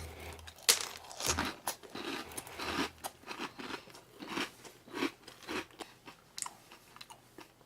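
Crunchy dry King Vitamin cereal chewed close to the mic, a steady run of sharp crackling bites and grinding crunches repeating for several seconds with no talking.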